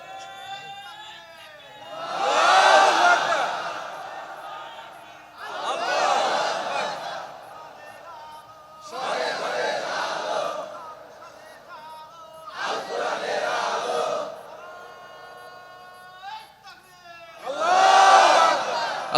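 A large crowd at a Bangladeshi religious sermon gathering chants slogans in five loud, rhythmic bursts, with pauses between where a single voice leads.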